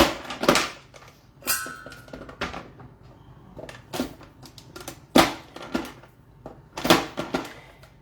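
Rapid knife chopping of 1 kg of washed, unpeeled courgettes on a board, a series of sharp, irregular clacks spaced about a second apart, close and clear with no talk.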